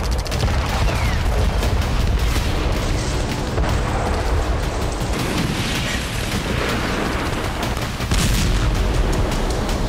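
Heavy, continuous rumbling blasts and booms from attacks in Crimea, loud and dense, overlapping one another with no pauses between them.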